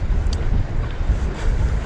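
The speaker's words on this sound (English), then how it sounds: "Oh man, it is super windy." Strong wind gusts over a small fishing boat at sea, a loud, continuous broadband buffeting with no voices.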